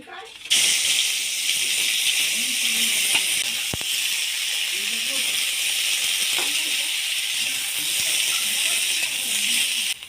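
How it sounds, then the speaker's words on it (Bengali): Cauliflower pieces frying in hot oil in a home kitchen, a loud, steady sizzling hiss starting abruptly and continuing throughout, with faint clinks and a voice speaking softly beneath. "ওই তেলের মধ্যে আমি এবার কফিগুলো ভেজে নেব।"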